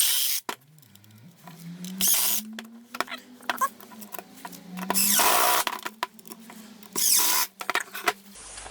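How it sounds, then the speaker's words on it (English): A power screwdriver drives screws into the plastic housing of a Milwaukee M12 charger, giving several short whirring bursts separated by pauses and handling clatter, close to the microphone. "We can screw the screws"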